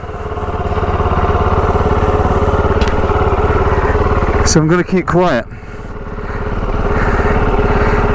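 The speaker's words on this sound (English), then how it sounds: "the audio isn't going to be great over this induction and exhaust." A motorcycle engine drones steadily with induction and exhaust roar, briefly revving with a rising whine mid-clip; someone speaks briefly over the noise.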